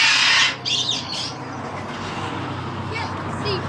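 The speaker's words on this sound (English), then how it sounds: "it's the only cockatoo in here" A cockatoo gives harsh squawks indoors in a bird hut, one loud burst at the start and fainter calls later, over background noise.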